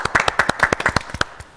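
Studio audience on a Korean TV health programme clapping for a dental clinic director before his lecture on navigation implants, a brisk run of sharp, close hand claps from a small group, fading off near the end.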